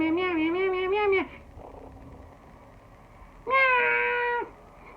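Two long, drawn-out meows with a tonal, harmonic quality sound close and clear, separated by a quiet pause. The meows are a human voice imitating a cat.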